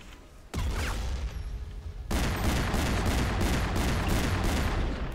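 Video game gunfire in the shooter Short Soldier, a quiet lull broken by a burst of heavy shots, then rapid repeated automatic fire with a steady rhythmic pulse, loud and close.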